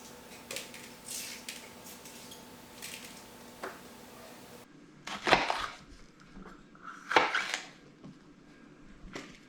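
A knife chopping red peppers on a cutting board for roasting, with a few scattered soft cuts and then two louder, sharper chops close by, no talking.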